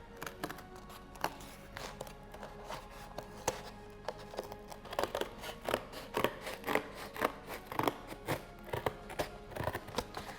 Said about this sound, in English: I'm using quite thin cardboard, and that's how I've managed to use my scissors.